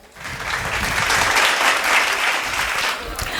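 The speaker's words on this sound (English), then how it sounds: "Big round of applause." Audience applause at a pre-primary school family talent show in Hyderabad, a dense steady wash of clapping from a full room that swells quickly and holds loud for several seconds.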